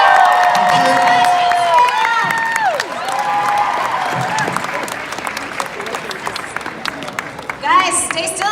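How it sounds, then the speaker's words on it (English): A crowd at a Marvel panel at Rhode Island Comic Con applauds loudly with scattered cheers and whoops, clapping sustained throughout while voices call out over it. "Please give one more big round of"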